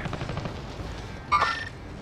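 Gunfire in Call of Duty: Modern Warfare, a short muffled burst of shots with a sharp boom in the middle, heard over a low rumbling game backdrop.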